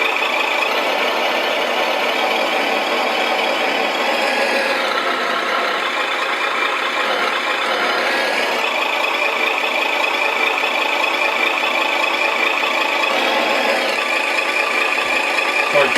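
Simulated diesel startup and idle from a sound unit fitted to an HG P801 8x8 HEMTT scale RC military truck: a steady electronic engine drone with a couple of brief rising revs, close and constant.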